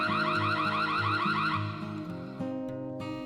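A Noorio security camera's siren alarm blares loud and steady, a warbling electronic wail with a repeating rising tone that shifts pattern partway through, sounding alone with no talk.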